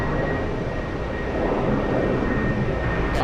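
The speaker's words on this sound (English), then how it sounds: "I'm hearing engine sounds from somewhere," Aircraft engines roar at JFK airport, a broad, steady rumble from taxiing or parked jets at moderate distance, continuous and loud with no voices over it.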